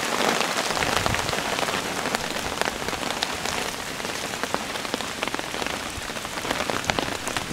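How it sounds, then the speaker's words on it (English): Rain patters on a tarp or leaves over a woodland hammock camp, a dense, even stream of close drops with occasional sharper hits, wind faintly underneath, steady throughout and without talk. "As you can hear the wind and the rain."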